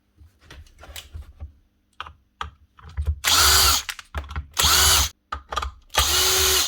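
A DeWalt DCS557 54V/60V cordless saw under repair has its motor run in three short loud bursts, each spinning up and cutting off abruptly, separated by clicks and handling noises.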